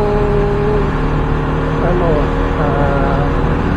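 A repaired Yamaha RS200 motorcycle engine runs steadily and loudly at close range, a continuous drone with a slight rise in pitch partway through, while a person talks over it.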